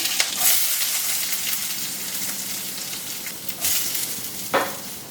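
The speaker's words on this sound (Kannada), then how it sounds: "ಇವಾಗ ಇದಕ್ಕೆ ಒಗ್ಗರಣೆ ಹಾಕ್ಕೊಂಬಿಡೋಣ. ಎಣ್ಣೆ ಹಾಕ್ಕೊಂಡು ಸ್ವಲ್ಪ ಸಾಸಿವೆ ಹಾಕ್ಕೊಂಡಿದ್ದೀನಿ" Hot oil with mustard seeds sizzles and crackles steadily, with sharper pops and spatters bursting out every second or so.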